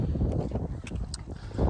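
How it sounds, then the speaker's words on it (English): Wind buffets the microphone in low, rumbling gusts, with a few faint clicks and taps scattered through. "It's really windy out, so I'm wondering how the iPhone's gonna handle the wind."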